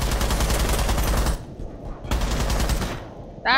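Rapid automatic gunfire from a Rainbow Six Siege ranked match, loud close bursts in two stretches separated by a brief lull, then a sharp shot at the end.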